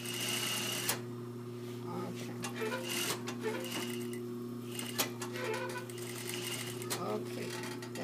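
A home sewing machine runs a short stitching burst along a garment seam, a steady mechanical hum with a rapid rhythmic chatter, close and moderately loud, under a voice speaking now and then.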